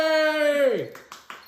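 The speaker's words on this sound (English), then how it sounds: "a round of applause!" A brief, sparse round of applause, just a handful of separate claps spaced a fraction of a second apart, following a cheerful sung-out voice, close and fairly quiet.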